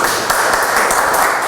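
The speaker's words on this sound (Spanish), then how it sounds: "Entonces recibamos con un fuerte aplauso, por favor" An audience at an engineering presentation applauds to welcome a speaker, a loud, dense burst of clapping that holds steady throughout with no talk over it.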